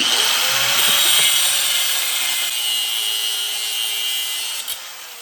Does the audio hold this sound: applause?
no